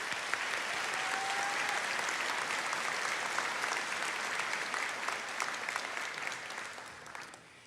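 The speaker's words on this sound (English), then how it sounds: "You guys can clap." Steady, sustained applause from a large audience at a Basic Academy graduation, a dense wash of clapping heard from a distance that holds evenly for several seconds before tapering off.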